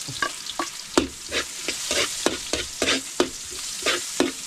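Onions and pepper sauté in a pan over a wood fire, sizzling steadily while a utensil scrapes and stirs in regular strokes, close and fairly loud with no voices.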